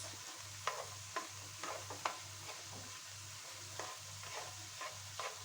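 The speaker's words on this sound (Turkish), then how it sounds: "biberlerimizi ayrıca zeytinyağında ilave edip güzelce karıştırıyoruz" Spoon strokes scrape and clink irregularly through a pan of peppers sizzling in olive oil for beef goulash, with a low steady hum beneath and no voices.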